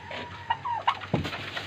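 A domestic turkey on a rooftop farm gobbles in a few short, close bursts over a quiet background hum, with no talking.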